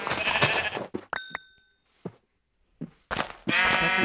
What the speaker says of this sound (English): Ooh, a lot of sheep and some pumpkins.